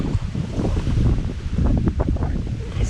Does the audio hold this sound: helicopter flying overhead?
no